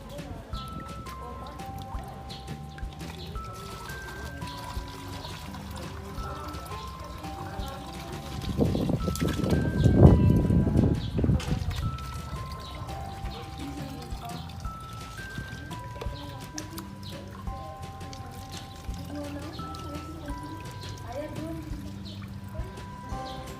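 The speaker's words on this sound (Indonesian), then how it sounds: "langkah selanjutnya yaitu mengisi botol dengan air" Water poured into a plastic bottle until it is full, part of a school physics practical; a louder gushing pour swells in the middle and then fades back into a steady, humming background.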